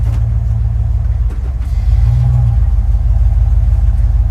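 A 1993 Dodge Ram W250 pickup truck engine idles steadily with a deep, continuous low rumble, close by and loud, with a slight rise in pitch partway through.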